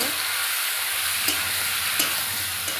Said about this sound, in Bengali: আদা রসুন জিরে বাটা দিয়ে দেবো। তারপরে ভালো করে নেড়ে চেড়ে নেব।